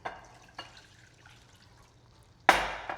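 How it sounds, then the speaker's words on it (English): Water is poured into a bowl of pierogi dough ingredients alongside an egg, giving a short bright splash after a couple of small knocks, close and fairly loud, with no talking. "We're gonna add water."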